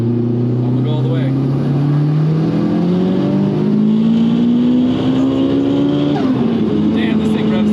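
Nissan S15 fitted with a big turbo and anti-lag revving hard in a pull, the engine note climbing steadily to a high rev for several seconds, loud and continuous, then dropping briefly.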